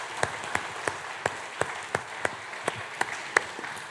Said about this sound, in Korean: 우리 박수 부탁합니다.